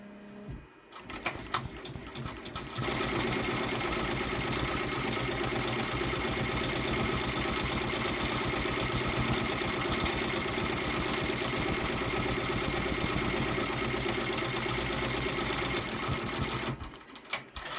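A Redline 1501 embroidery machine stitches an appliqué design on a child's shirt, producing a steady, fast mechanical whirring and rattling hum that starts abruptly, runs evenly for about fifteen seconds, then stops.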